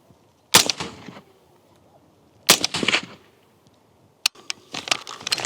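Sharp, loud AR-15 rifle shots ring out one at a time, each followed by a brief echo, with a quicker pair near the end.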